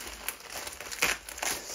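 A plastic-wrapped parcel is cut open with scissors, giving soft close crinkling and rustling with a few sharper snips and crackles.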